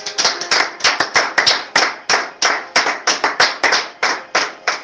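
A church congregation claps in praise to God, a brisk and loud run of overlapping hand claps falling in uneven bursts, with no voices over them.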